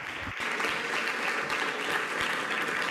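Audience at the 65th San Sebastian Film Festival press conference gives a warm round of applause, dense, steady clapping filling the room at an even level throughout.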